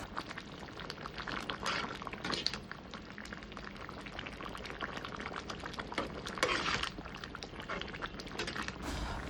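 A bamboo shoot curry bubbles in the pan as its gravy cooks down, a steady soft crackling simmer with a few brief louder sizzles, close and continuous without voices.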